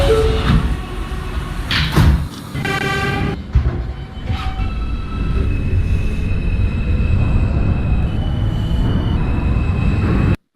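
NYC Subway R160A Alstom train in the OpenBVE simulator: a door chime rings, then the doors slide shut with a thud, followed by a steady low rumble and motor whine as the train sits and begins moving.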